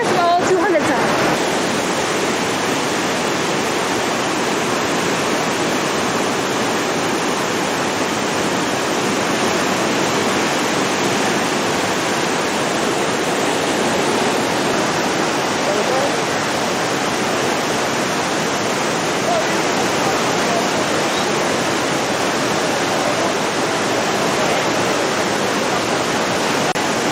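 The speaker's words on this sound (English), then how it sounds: "These falls are called Devil's Throat. Of the 200-some falls at Iguazu, these ones are the biggest and the best and the most roaring and the most water" Devil's Throat, the largest of the falls at Iguazu, roars with a dense, unbroken wash of falling water, loud and constant throughout.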